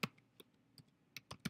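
A web address being typed on a computer keyboard, with quick, light key clicks at close range, irregular at first and then a faster cluster toward the end, and no voices.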